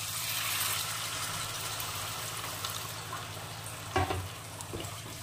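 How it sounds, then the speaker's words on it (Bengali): Water is poured into a pan of frying khaira fish curry, and the steady sizzle and bubbling of the pan shift into a short splash and hiss near the end, close and with no talk. "এখন এর মধ্যে পরিমাণ মতো একটু জল দিয়ে দেব।"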